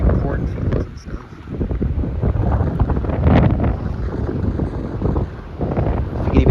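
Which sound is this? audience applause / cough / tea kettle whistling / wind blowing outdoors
wind blowing outdoors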